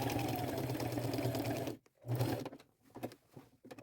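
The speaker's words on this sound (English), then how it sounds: "Sewing it just like I did the patches, a straight stitch, stay close to the edges" A sewing machine running a straight stitch to attach patches onto jeans: a steady mechanical whirring hum, then it stops and restarts in short bursts, close up.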